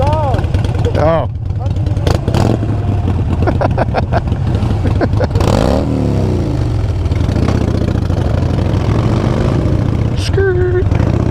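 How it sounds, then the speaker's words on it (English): A Harley-Davidson Iron 883 Sportster engine idles and rumbles nearby, a steady low throb beneath several people talking, with occasional revs rising and falling. "an R3 ain't gonna hold a candle sound-wise to a Harley"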